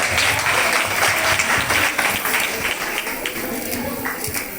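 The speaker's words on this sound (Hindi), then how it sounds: "तालियों का गड़गड़ाहट रुकनी नहीं चाहिए।" Audience applause fills a comedy skit show, a dense, steady wash of clapping at close range that holds loud throughout and eases slightly toward the end.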